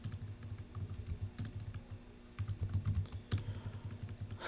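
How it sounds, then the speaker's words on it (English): Rapid computer-keyboard typing, a dense run of soft key clicks and clatter with a brief pause midway, close up and with no voices. "I'm typing too fast, friends."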